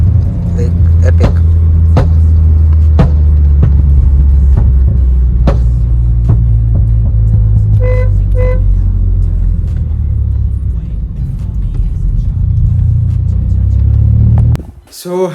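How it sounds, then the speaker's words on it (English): A Volkswagen Polo 1.0L TSI with a Venom Stage 2 tune and full-system exhaust idles and revs with a deep, loud rumble broken by irregular sharp pops and crackles, while people talk over it. "the pops and bangs on this car is deadly"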